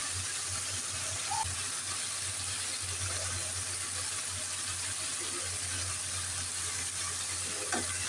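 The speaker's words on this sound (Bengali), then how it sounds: "এবার মশলাটাকে ভালো করে কষিয়ে নিচ্ছি।" Ground spices and cumin powder frying with a little water in a pan for a Bengali yogurt chicken curry, a faint continuous sizzle with occasional soft stirring sounds.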